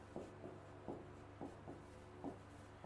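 Quiet pen strokes on paper, a series of short scratchy rasps in an uneven rhythm, close up and alone.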